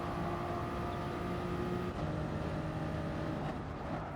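Toyota Supra race car engine in Gran Turismo Sport, a steady high drone with a brief shift partway through, loud and continuous without talk.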